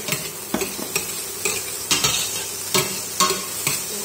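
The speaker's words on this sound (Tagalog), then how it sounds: "Ihulog natin yung butter para matunaw." Butter melting and sizzling in a hot pot for a maja blanca dessert, a steady close frying hiss broken by several stirring scrapes and clinks, with no talking.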